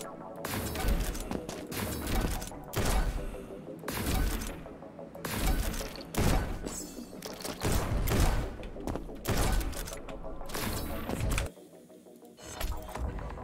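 Sharp gunshots and shattering impacts from the fast-paced first-person shooter Neon White, a dense run of loud, repeated bursts with brief gaps, ending in a short quieter stretch.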